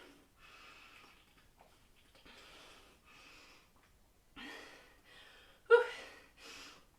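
Woman breathing hard after a round of a HIIT workout, with a string of loud, raspy breaths in and out, near and uneven, ending in a sharper gasp and a final exhale.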